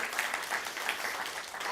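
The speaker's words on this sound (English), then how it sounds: "can we give this man a round of applause?" Brief burst of clapping from a crowd, a dense, even patter with no pauses.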